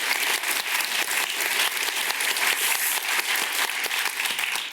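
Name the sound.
audience applause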